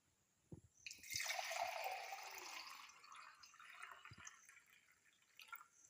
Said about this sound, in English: we are going to fill it with water.